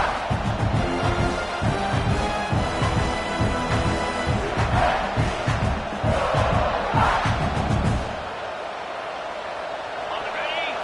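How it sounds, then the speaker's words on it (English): Loud stadium crowd roar in an American football video game, a dense wash of cheering and chanting at a red zone defensive stand that swells steadily, under commentary, then drops away sharply near the end. "This crowd is trying to inspire this defense to make a big red zone stop."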